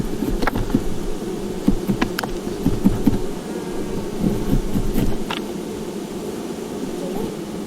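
A low, continuous buzz of many honeybees swarming close by at an open hive being expanded, with occasional light knocks and taps over the droning hum.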